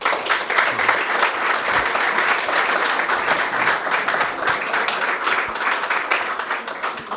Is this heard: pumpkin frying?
no